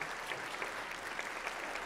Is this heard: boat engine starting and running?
no